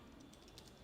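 Keys tapped on a computer keyboard while a search term is entered, a quick run of faint, light clicks over low background hiss.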